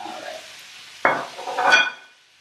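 Zucchini noodles go into a hot pan with a faint background hiss, then a sudden brief burst of sizzling and a short stirring scrape before it quiets.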